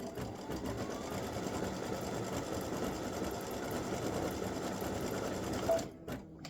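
An embroidery machine stitches a pink thread rose, its steady, dense mechanical whir running loud and unbroken for about six seconds before stopping abruptly.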